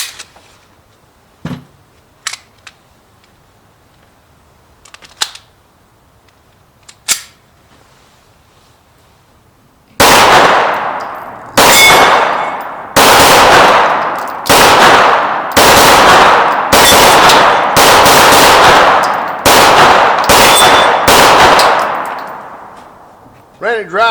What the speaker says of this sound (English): So let's load it up and take a few shots.